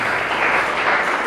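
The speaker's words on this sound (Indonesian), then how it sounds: "Ya, silakan diberi tepuk tangan." A classroom audience at a teacher-training lesson breaks into brief, dense applause, a steady wash of many hands clapping close by with no talking over it.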